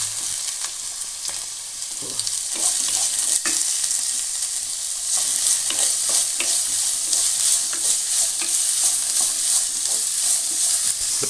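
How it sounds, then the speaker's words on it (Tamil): Onions sauté in oil with a continuous loud sizzle, punctuated by repeated stirring scrapes of a spoon in the pan. "அடுத்தது வெங்காயத்தையும் தக்காளியையும் வதக்கிடலாம்"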